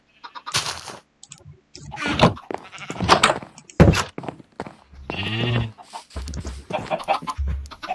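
Sheep in the video game Minecraft bleat repeatedly and close by, a dense overlapping run of calls with no talking.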